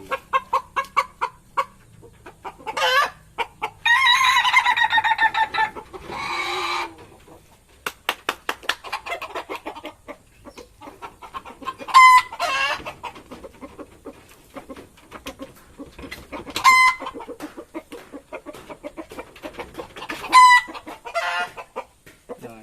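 Ayam ketawa laughing-chicken roosters of the dangdut and disco (kretekan) crowing types, kept at a breeding setup in Meulaboh, give repeated long rolling crows with clucking between them, fairly close and heard alone without talk.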